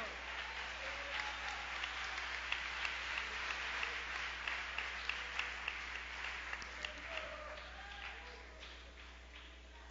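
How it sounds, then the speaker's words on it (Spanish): A church congregation claps hands together during a vigil service, a steady rhythmic patter of many hands, moderately distant and continuous throughout. "Hace fuerza las palmas al Señor."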